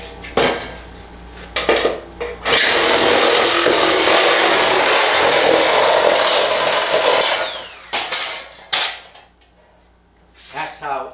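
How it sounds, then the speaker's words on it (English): Cordless 18-volt center snips slicing through metal flue pipe during a water heater install, a loud continuous metallic crunching and rasping cut lasting several seconds, framed by short clanks and handling noises before and after. "just to show you how easy it is to use that tool to cut a nice piece of flue pipe"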